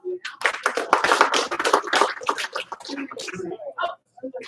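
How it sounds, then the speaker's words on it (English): A group claps in short bursts under a steady stream of a voice, the hand claps mixing with her talk and other voices in a busy room. "Give her 1 clap. 2 claps."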